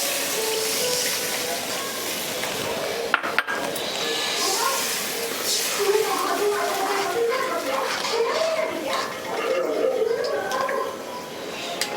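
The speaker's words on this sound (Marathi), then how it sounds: "पाणी टाकूया." A cup of water poured into palak paneer gravy in a pan gives a steady, close splashing rush that runs for the whole stretch over a busy kitchen background.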